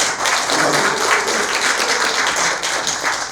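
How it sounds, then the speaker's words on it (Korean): Loud, dense applause from a seminar audience at a Korean economics lecture, steady sustained clapping from many hands filling the whole stretch with no talk over it. "박수 한 번 쳐주세요"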